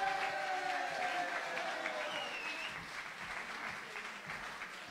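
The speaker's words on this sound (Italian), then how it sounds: "Marina Malpensa, a cui facciamo un applauso" An audience at a festival award ceremony in San Lazzaro di Savena applauds vice mayor Marina Malpensa, steady, many-handed clapping that gradually fades, heard at moderate distance.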